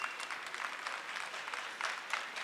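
An audience at a government address to young people bursts into a short, even patter of clapping, moderately loud and steady throughout, with no voices over it.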